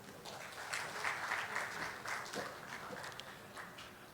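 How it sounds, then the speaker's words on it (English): A forum audience applauds panel speakers as they are introduced, a steady wash of clapping at moderate distance that carries on throughout without talk over it. "A round of applause, please."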